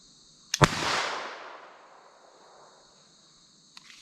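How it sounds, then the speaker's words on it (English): A single sharp report from a Taurus TX22 .22 LR pistol, fired outdoors, rings out loud and close, followed by a long decaying echo, with a faint click near the end. "That shot sounded interesting"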